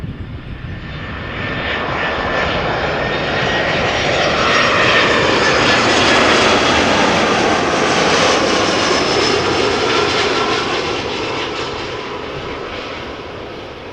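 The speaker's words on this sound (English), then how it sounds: "A320 arriving from Liverpool after 52 minutes of flight, touching down." An EasyJet Airbus A320-200 in EasyJet Holidays livery arrives and touches down at Amsterdam Schiphol. Its loud jet roar swells to a peak midway, then slowly recedes, heard alone at moderate distance.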